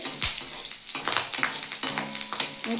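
Nigella seeds and four green chillies frying in hot oil, a close crackling sizzle with sharp pops and bursts spattering throughout, no talk.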